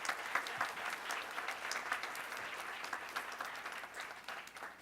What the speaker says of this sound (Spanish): me permito pedir un aplauso